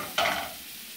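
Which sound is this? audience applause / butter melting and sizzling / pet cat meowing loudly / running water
butter melting and sizzling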